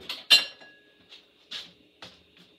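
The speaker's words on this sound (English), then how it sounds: "Let me get my spoon again and stir it." A metal spoon clinks and scrapes against a pot of bucatini pasta heating on a high burner, several separate knocks spread over a couple of seconds, close and moderately loud.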